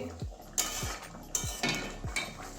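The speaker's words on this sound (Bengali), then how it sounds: "এবারে নামিয়ে একটা বাটির মধ্যে ঢেলে দেখাচ্ছি" Cooked moong dal with gram greens poured from a pot into a bowl: a few sharp metal clinks and scrapes of a ladle against the pot, repeated in a steady rhythm, close and moderately loud with no talk.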